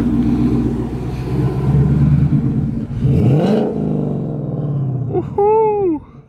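A Ford Mustang GT pulls in with a loud, rumbling exhaust, revving up briefly, settling into idle, then shutting off as a rising squeal trails off at the end.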